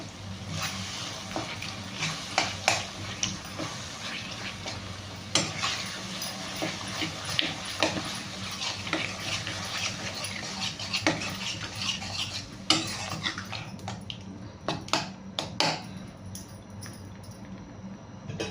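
Chicken curry with garam masala and yogurt in olive oil is stirred in a pan, with repeated metal-on-pan scrapes and clinks over a low, steady sizzle.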